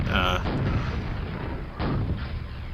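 A rocket launcher fires in Quake, giving booming blasts with a heavy rumbling explosion at the start and another burst about two seconds later, loud and close.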